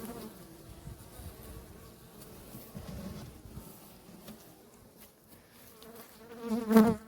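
Buckfast honeybees buzzing on hive frames in a low, continuous hum close by, swelling louder near the end as one passes right by.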